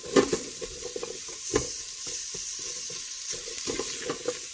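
Turnip cubes stirred with a spice mix in hot oil, a steady sizzle with repeated spoon scrapes and clatters against the pan, close and fairly loud, no voices.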